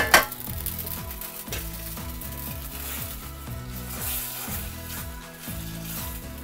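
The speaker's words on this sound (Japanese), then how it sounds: "このバター、魚醤バターソースを麺に吸わせるイメージで、バターにとろみがつくまで加熱していきます" Pasta being tossed and heated in a pan with ayu fish sauce butter sauce, a steady close sizzle with repeated rhythmic scraping and stirring, no voices.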